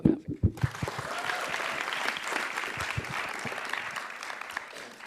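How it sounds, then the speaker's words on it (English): An audience at a panel event claps for a speaker, starting with a few sharp, close claps that swell into sustained, even applause from the crowd, holding for several seconds before easing slightly. "Another clap for Melvin."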